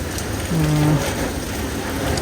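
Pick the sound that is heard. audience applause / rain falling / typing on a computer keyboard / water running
rain falling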